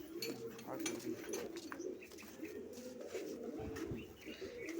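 Continuous deep cooing from large domestic pigeons, a paired cock and hen kept for sale, pulses in soft repeated rolls nearby, steady in level with only small rises and dips.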